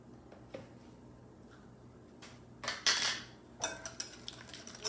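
A whisk or utensil clinks against a bowl while Parmigiano-Reggiano is worked into a Caesar salad dressing, with quiet taps at first and then a few louder bursts of rapid scraping and clatter up close.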